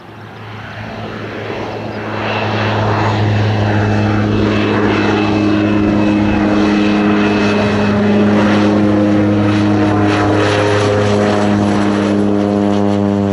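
A Pacific Aerospace 750XL single-engine propeller aircraft passes overhead, its steady droning engine and prop hum swelling within two seconds to a loud, sustained roar that holds through the end, with no talking.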